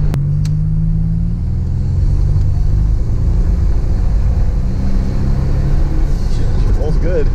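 A car engine pulls hard under turbo boost, heard from inside the cabin as a loud, steady low rumble and drone that holds for several seconds, with muffled voices underneath.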